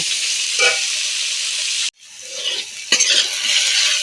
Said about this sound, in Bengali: হোঁপা একটু ভালো করে ভাজতে হবে